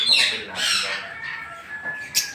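Lovebirds in Pampanga give shrill, harsh squawks and chirps in short bursts, close and fairly loud, with a faint whistle running under them.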